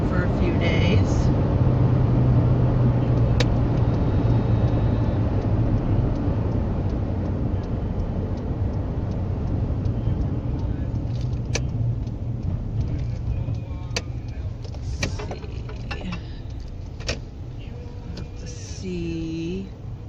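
A car drives toward a repair shop, its steady engine and road rumble heard from inside the cabin, loudest at first and easing slightly toward the end.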